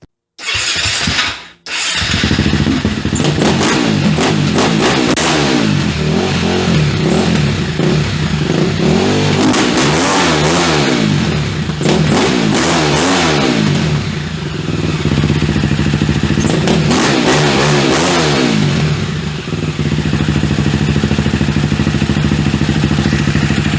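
A KTM 450 dirt bike engine, unrun for ten years, fires up after a brief cranking and then idles loudly and revs repeatedly in rising and falling bursts for about twenty seconds, close up with no talking.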